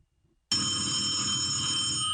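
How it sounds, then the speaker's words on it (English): An electronic landline telephone mounted on a wall starts ringing abruptly after half a second of silence and continues steadily and loudly, with no voices. "the landline on the wall is ringing"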